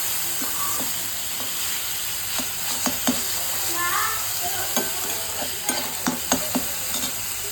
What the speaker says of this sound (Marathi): टमॅटो छान परतला